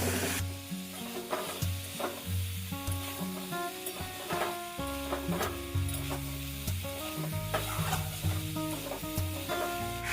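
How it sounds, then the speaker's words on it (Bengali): Spices, ginger paste, green chilli paste, red chilli powder and grated tomato sizzle and sauté together in a pan, with steady frying hiss and repeated scraping stir strokes, no talking. "এবার আমি এটাকে একসাথে কষিয়ে নেব।"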